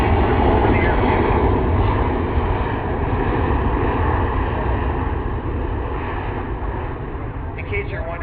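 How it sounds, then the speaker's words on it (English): A Boeing C-17 military transport aircraft makes a slow fly-by over an airfield, its engines a broad, steady roar that fades slightly, with someone talking over it throughout. "C-17 is now maneuvered to show full flight in action and demonstrates advanced aerodynamics in action."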